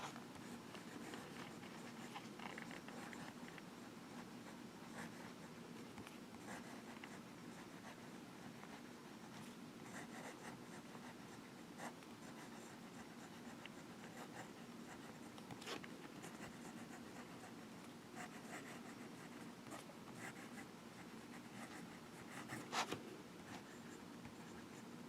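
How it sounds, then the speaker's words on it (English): A Monteverde Aldo Domani fountain pen with a fine nib writes on paper, giving a steady, soft scratching that continues throughout, close up, with occasional slightly sharper strokes. "let me show you how well this pen writes"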